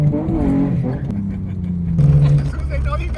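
A car with a 427 engine pulls hard, then downshifts to third at about 3,000 rpm. The engine drone rises and settles, loud and close from inside the cabin, with a voice heard over it.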